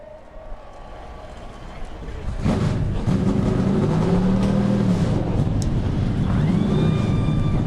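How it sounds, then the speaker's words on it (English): NASCAR Xfinity Series race car engines fire up at the Kansas Lottery 300, with the roar rising sharply and then holding loud and steady as several cars idle together, and engine notes revving up and down. "start your engines!"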